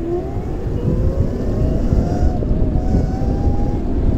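A DIY electric skateboard with a single 6354 motor on a 5S lipo battery accelerates at full throttle, its motor whine rising steadily in pitch over a loud, continuous rumble of wheels on pavement.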